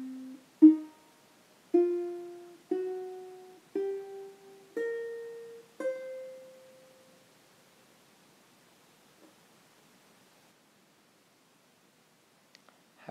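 A guitar plays the C blues scale from tab, six clearly plucked ascending notes evenly spaced about a second apart, each ringing and decaying, then fading into near silence.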